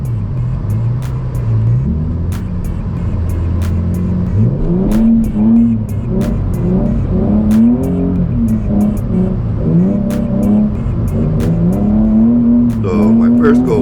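A Nissan 350Z drifts at Evergreen Speedway on a drift day, held in second gear as its engine revs rise and fall in rough, sustained sweeps, loud and close throughout, with a voice speaking over it.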